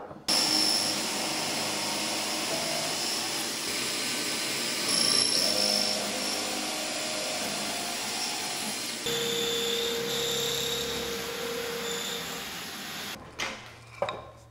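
A power drill bores a pocket hole into wood during a beginner table build, a steady high whine running nearly continuously at close range, changing pitch partway through and ending with a few short bursts.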